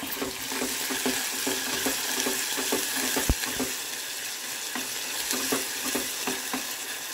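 Curry with extra ginger-garlic paste, fenugreek leaves and coriander sizzles and fries in a pan while a spoon scrapes and stirs in steady repeated strokes, close and fairly loud, with no talking.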